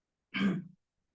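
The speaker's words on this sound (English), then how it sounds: "sorry, my cough." A single short throat-clearing cough from an unwell man during an online lecture, close and brief, standing alone between silences.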